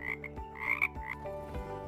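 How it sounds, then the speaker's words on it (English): Frogs croak in a rapid series of throaty, rattling calls, several close together, loud and clear with no talking. "Frogs, croak."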